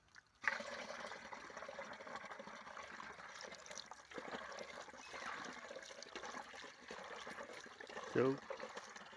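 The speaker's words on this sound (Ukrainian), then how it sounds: "Заливаю 3 літри води." Three litres of water are poured from a sieve into a container while seed wheat is treated with a protectant, making a steady trickling splash. Voices talk faintly at times.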